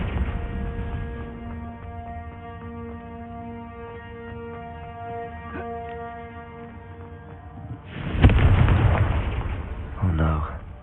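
A Confringo fire spell bursts in Hogwarts Legacy, a loud booming explosion rising out of a steady droning musical backdrop, with a second smaller burst shortly after.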